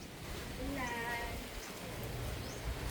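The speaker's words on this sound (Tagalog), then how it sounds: "Parang ang lakas-lakas ng ulan." Heavy rain pouring down steadily as a dense continuous hiss, with a brief tonal sound and a voice faintly heard partway through.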